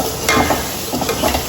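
Curry with turmeric being stirred in a pan, a soft scraping and shuffling over a low, steady sizzle, with a few louder strokes close by and no talking.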